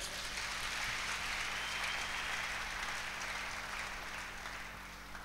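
A church congregation applauding, a sustained, even wash of many hands clapping that fills the space and tapers slightly toward the end.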